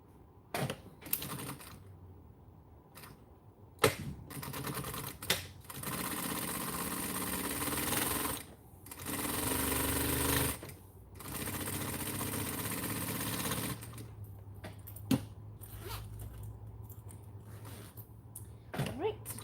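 A sewing machine stitching at 3.5 stitch length runs in several bursts of steady whirring, broken by pauses with light clicks and handling noise, close and moderately loud.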